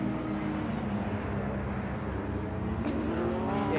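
A Porsche Cup race car turns around on the formation lap of a race in Hungary, its engine a loud, steady growling drone that swells slightly toward the end, with no commentary heard.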